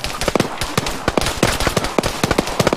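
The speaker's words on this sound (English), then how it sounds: "We're taking shots from the southeast too." Dense automatic gunfire from the Arma 3 video game: rapid cracking shots in uneven bursts, loud and close, with overlapping volleys and no pause across the whole stretch.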